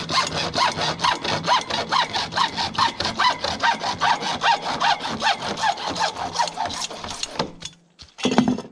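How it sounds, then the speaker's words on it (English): A hacksaw cuts through thin-wall PVC pipe with about twenty quick, even back-and-forth rasping strokes, close and loud, then stops abruptly, followed by a brief knock near the end. "You can see the hacksaw, a good sharp blade, is going to make a world of difference."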